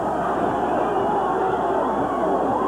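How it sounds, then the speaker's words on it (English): A wrestling arena crowd roars in a dense, continuous wash of cheering and chatter, heard from amid the audience with no distinct voices standing out. "The fans are cheering."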